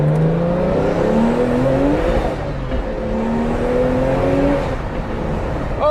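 A turbocharged car accelerating hard on a main road, the engine's loud rising drone climbing through gears in repeated sweeping pitch rises, heard close from inside the car with no talking.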